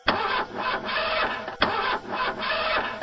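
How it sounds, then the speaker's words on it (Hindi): A truck engine cranks repeatedly but fails to start in an animated story, giving two rough bursts of grinding, sputtering starter noise in quick succession, fairly close and with no talk. "लेकिन उसकी गाड़ी स्टार्ट नहीं होती।"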